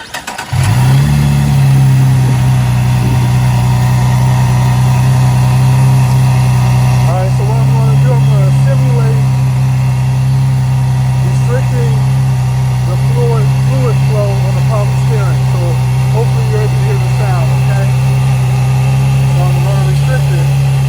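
A supercharged Cadillac CTS with a 3.6L V6 turns over and fires up, then settles into a steady, loud, low idle that runs on with a constant hum outdoors on a windy day.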